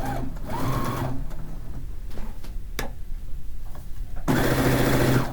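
Sewing machine stitching a quilt seam, running in short whirring bursts at the start and end with quieter clicks and handling noises in between.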